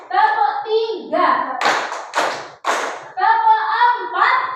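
Children clapping their hands on a count during a classroom activity: a few sharp group claps between stretches of voices counting aloud, which come before and after the claps.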